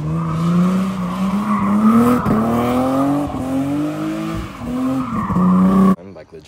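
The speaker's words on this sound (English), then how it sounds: "I was actually able to break the tires loose for the first time." A BMW E36 drift car's tires break loose and squeal in a long, loud, wavering skid over a rumbling engine, ending abruptly near the finish.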